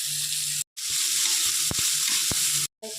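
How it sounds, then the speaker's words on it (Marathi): Onion, tomato, green chillies and coriander sautéing in a hot pan, giving a loud, continuous broadband sizzle with a few brief knocks from a stirring spoon. The sizzle cuts out twice for a moment. "थोडंसं कांदा, थोडंसं टमाटर, 2 मिरच्या, थोडीशी कोथिंबीर टाकून परतून घेते"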